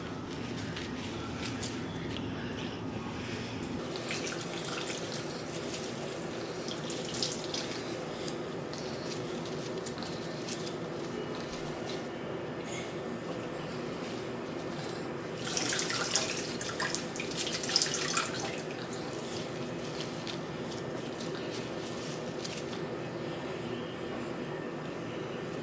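Water from freshly rinsed kale leaves squeezed out by hand in a kitchen, a steady soft trickle and patter of drips into a sink that runs throughout, with a few louder splashy bursts midway.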